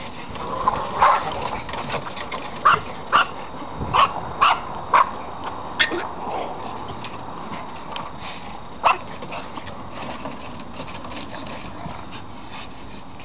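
A pug puppy barks in short, sharp yaps, repeated irregularly a dozen times, close by, with quiet whimpers and background rustle between barks.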